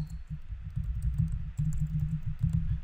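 Code is typed on a computer keyboard in a soft, quick patter of key taps over a low steady hum, with brief pauses between short runs of keystrokes.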